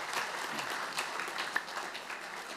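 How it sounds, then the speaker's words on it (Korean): Welcoming applause rises from the audience at the founding general meeting of a society honouring independence activist Gye Yeon-su. It sounds soft and distant, a steady patter of hands throughout with one sharper clap. "환영의 박수 부탁드리겠습니다"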